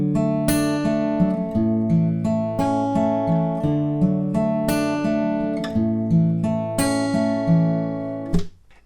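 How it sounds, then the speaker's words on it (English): Finger-picked acoustic guitar playing the intro to a song, with steady arpeggiated chords that ring close and clear, each bar's bass note starting a fresh pattern, played alone without any voice. "So the intro will sound like this."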